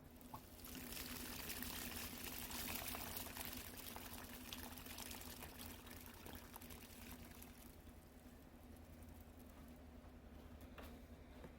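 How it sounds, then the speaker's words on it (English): Faint, steady pouring of water onto a tomato plant, a continuous soft trickle heard from a distance with no talking. "just add some more water"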